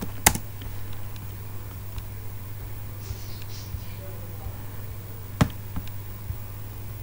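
A username and password are typed on a computer keyboard, producing sparse, quiet key clicks and a few sharper taps over a low steady hum.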